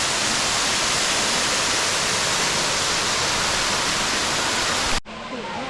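A powerful waterfall at Erawan National Park in Thailand roars as a loud, steady wash of rushing water, then cuts off abruptly near the end to a much quieter background.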